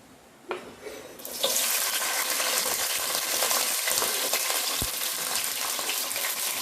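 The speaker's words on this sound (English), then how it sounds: "So after the oil is heated, I am going to put onions like this from the board." Onions and curry leaves dropped into hot oil in a pan for a coastal Andhra-style fish curry, a sudden loud sizzle that jumps up and then holds as a steady, close crackling fry, with no talking.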